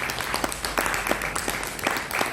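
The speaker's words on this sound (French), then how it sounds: "Je pense qu'on peut applaudir Sunayana." An audience applauds Sunayana at a book launch, the clapping sustained and fairly dense across the room with slight swells, heard alone without talk.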